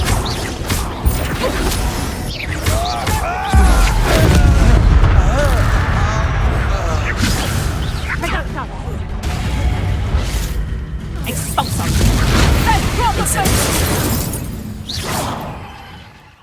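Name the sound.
Incendio fire spell explosions in Hogwarts Legacy video game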